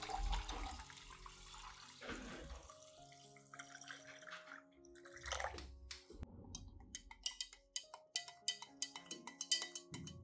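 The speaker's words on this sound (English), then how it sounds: "Then I will add 500 milliliters of clean water and stir well." Clean water, about 500 milliliters, is poured into rice and stirred, giving faint splashing, trickling and scraping with a few sharper clinks toward the end, close by and quiet, with no talking.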